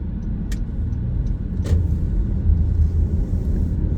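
A car rolls through weekend traffic in Flushing, New York, with a steady low engine and road rumble from inside the cabin and a few brief sharp clicks or knocks on top.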